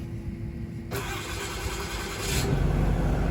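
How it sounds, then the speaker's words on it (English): The diesel engine of an Elliott M43 truck cranks and catches, then settles into a steady rumbling idle, close by and fairly loud. "Engine starts."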